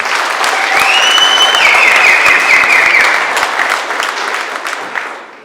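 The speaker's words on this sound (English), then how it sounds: "Please give them a round of applause." Applause from an audience at a regional political leadership launch in Vaal: loud, dense clapping from a crowd lasting about five seconds, then fading out, with a faint tone running through it.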